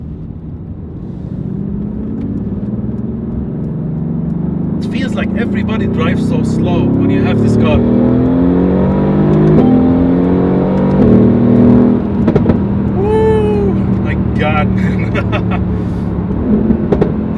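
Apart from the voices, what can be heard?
Mercedes AMG GTR accelerating hard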